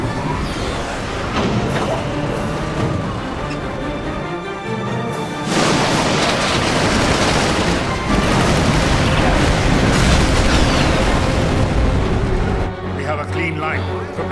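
Cannons fire a volley in the Final Fantasy XII: The Zodiac Age ending, heavy booms and crashes rolling over a dense orchestral score, loud and sustained, with voices speaking among the blasts.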